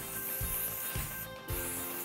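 Hairspray misted onto a back-combed ponytail while building a pretzel updo, a soft close continuous spray hiss with faint rustling of hair and rhythmic low thumps underneath.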